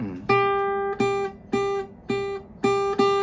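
Clean, ringing jazz guitar notes are picked in a short phrase, about six evenly spaced plucks, each sustaining briefly. It is moderately loud, with no talk.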